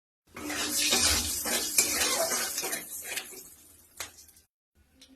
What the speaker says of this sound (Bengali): তেলের উপরে ফড়মে দিয়ে দেবো আমি একটু জিরা, লং, এলাইচি, গোলমরিচ